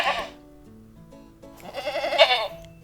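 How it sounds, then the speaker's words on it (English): A goat bleats, a short call followed by a louder, wavering bleat near and clear, with a quiet gap between the two. "It's a goat."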